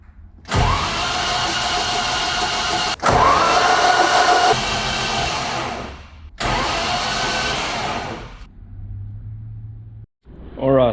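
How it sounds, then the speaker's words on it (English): A BMW hybrid engine built from M42, M44, M47, B21 and K24 parts cranks over in several long, loud, close bursts separated by short pauses, with a brief voice near the end. "Battery's charged. All right, let's go again."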